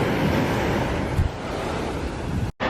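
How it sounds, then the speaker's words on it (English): Big ocean waves crash and roar continuously at a Barcelona beach, close and loud, with heavy wind buffeting the microphone and no voices. "The waves are literally so big."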